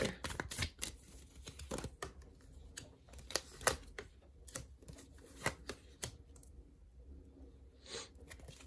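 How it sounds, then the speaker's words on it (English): Tarot cards are shuffled and pulled from the deck in a quick run of crisp riffles, flicks and taps that thin out toward the end, close and fairly quiet with no speech. "Let's pull out a few more cards and see though."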